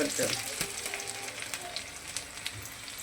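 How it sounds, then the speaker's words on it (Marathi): Ginger hitting hot oil for a dosa potato filling, a steady close sizzle with light stirring taps and small crackles, moderately quiet and without talk. "कडकडीत तेल झालं की त्यात आपण अद्रक टाकायची"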